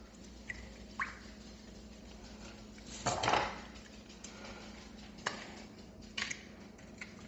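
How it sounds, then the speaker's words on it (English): Seasoning mixture with about two tablespoons of added spice being stirred in a container while making smoked Thai ribs Cajun style: quiet scattered clinks and scrapes, one longer scraping swirl in the middle, over a low hum. "I'm going to get that stirred up."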